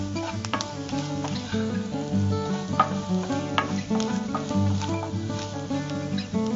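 Coriander powder fries in hot oil for a prawn and fish curry, giving a steady close sizzle as a spoon stirs it through the pan.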